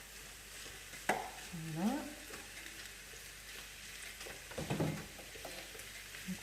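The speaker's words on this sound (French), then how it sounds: "On va mettre à revenir notre viande." Ground beef frying with onions in a pan for beef tacos: a soft, steady sizzle with occasional spatula scrapes and stirring knocks. One brief spoken word occurs near the start.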